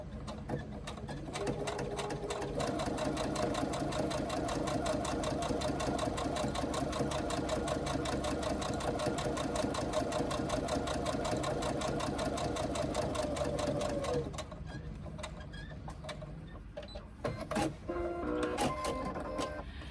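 A sewing machine top-stitches a seam along mesh on a fabric pouch, a close, loud and steady whirring hum with fast needle clatter for about fourteen seconds. Then it stops and a few clicks and handling sounds follow.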